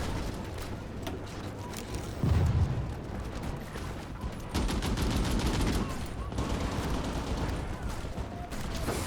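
Battle gunfire in the Hearts of Iron IV strategy game, dense overlapping volleys of rifle and machine-gun fire with heavier booming bursts, continuous and fairly loud.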